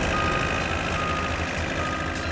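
A truck towed by an excavator up a narrow access road sends out a loud, steady, repeating reversing beep over a constant engine drone.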